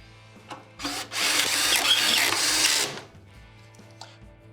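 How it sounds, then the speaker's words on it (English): A power driver runs T20 screws into a Whirlpool microwave to resecure a replacement magnetron, whirring steadily for about two seconds after a short initial burst, close and fairly loud, with faint clicks around it. "we could resecure the new magnetron with the T20 screws back in its place"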